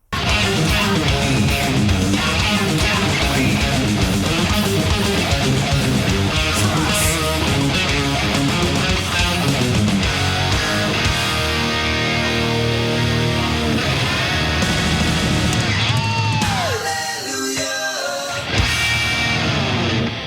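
Dense, loud electric guitar playing a heavy riff over a full band, building and then breaking down toward a sparser ending.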